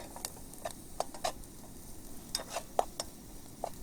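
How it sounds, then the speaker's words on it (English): Onions frying in a pan as they begin to brown, a soft steady sizzle with scattered small pops and ticks, some brief scraping as they are stirred, quiet and close. "when the onions are just starting to brown up"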